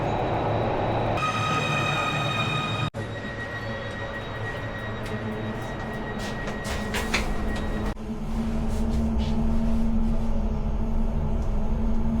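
An overnight passenger train from Bar to Belgrade rumbles loudly and steadily, with a brief high whine early on, a sharp jolt, and a rising roar of wheels and carriage noise toward the end.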